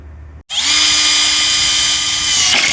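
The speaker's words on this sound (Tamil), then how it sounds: "இப்போ ஸ்க்ரூவை வச்சு ஓட்ட போட்டுக்கலாம்" A power drill drives screws into a handmade wooden chair: after a brief silence the motor kicks in and whines steadily, loud and close, for the rest of the clip with no talking.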